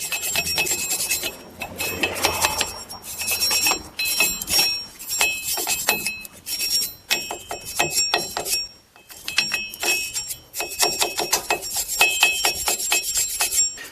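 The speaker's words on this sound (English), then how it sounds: "take a wire brush and get rid of some of this corrosion in here" A wire brush scrubs corrosion from a brake hub on a 2004-2011 Ford F-150 during a rotor change, giving rapid rough back-and-forth scratching strokes in bursts, close and fairly loud, with short pauses between passes.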